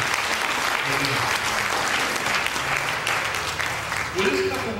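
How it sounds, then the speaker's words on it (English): Steady, dense applause from a church congregation honoring a couple married 50 years, continuous clapping with voices and murmuring mixed in underneath throughout. "Give them a hand clap of praise"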